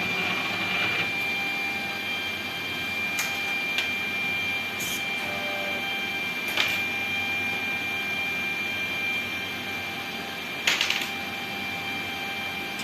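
A 3D printer runs with a steady whirring hum, fan noise and faint motor whines, punctuated by a few brief clicks and clatters.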